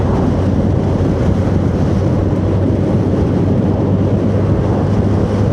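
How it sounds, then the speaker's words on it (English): Small motorboats head out toward Bangor, and their engines blend into a steady, loud rumble of wind buffeting and open water that runs without a break and covers any distinct engine note. "There's all the wee putt-putts heading out to Bangor."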